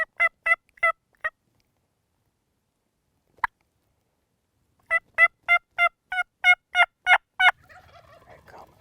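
A wild turkey gobbles repeatedly in two bursts of rapid, strident notes, moderately near, with a short pause between, then soft rustling afterward.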